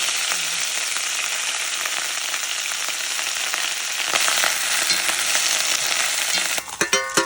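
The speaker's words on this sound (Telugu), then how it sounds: "నూనె వేసుకొని కొద్దిగా పుదీనా వేసుకోవాలి." Mint leaves frying in oil in a pan for a mint chutney; a steady, dense hiss of frying carries throughout, brightening partway, with a few scraping stirs near the end and no talk.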